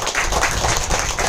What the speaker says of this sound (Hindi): एक बार जोरदार ताली हो जाए आप सभी लोगों के लिए.